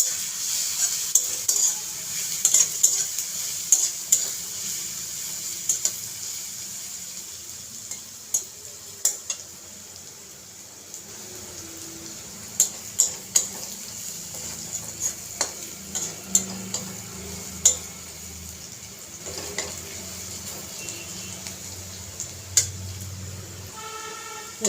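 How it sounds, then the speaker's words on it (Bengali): Garlic paste and onions frying in a pan for a Bengali small-fish dish, a low continuous sizzle with irregular clinks and scrapes of a metal spoon stirring against the pan. "রসুনটাকেও পেঁয়াজের সঙ্গে মিশিয়ে কিছুক্ষণ ভেজে নেব।"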